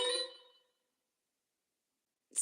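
Two phone notification dings: a bright chime that rings and fades over about half a second, then silence, then a second sharp ding cutting in at the end.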